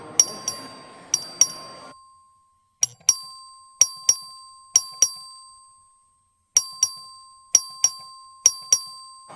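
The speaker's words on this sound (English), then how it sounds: "The clerk will ring the bell." A legislative chamber's voting bell rings in crisp, bright single dings: a few quick strikes over faint room noise, then a series of clear, evenly spaced chimes that each decay slowly in a quiet hall.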